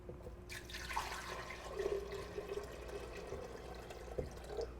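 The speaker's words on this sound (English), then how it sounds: "and then a little bit of water. I'll show you how much water to put in a pitcher." Water poured into a pitcher while making a raw kale and date recipe, a steady close splashing pour running throughout with a brief gurgle near the end.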